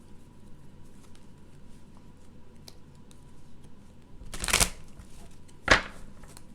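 A tarot card deck is shuffled close by in two short bursts of riffling and flicking cards against a quiet background, the first longer and the second a quick snap.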